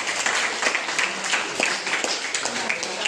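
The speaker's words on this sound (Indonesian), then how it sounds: "Tepuk tangan." Classmates applaud in a high school classroom, a dense wash of many hands clapping steadily throughout, fairly loud and close, with some voices mixed in.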